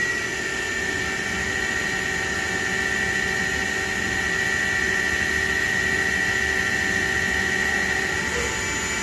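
A milling machine end mill takes a cut while boring matching holes in a BMW crown wheel for a Quaife LSD, making a loud, continuous, steady high-pitched whine and hiss over machine hum, with no talk.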